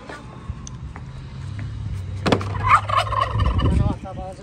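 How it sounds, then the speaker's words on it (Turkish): Domestic turkeys roaming a village yard gobble in a close, loud burst of warbling calls, with a low hum underneath and no talking. "Bizim Hindiler geziyor."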